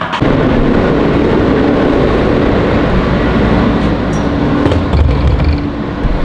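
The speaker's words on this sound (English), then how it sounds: "I'm stuck on the subway." Steady loud rumble of a New York subway train riding along the tracks, with continuous low roar and occasional rattles and squeals, no voices.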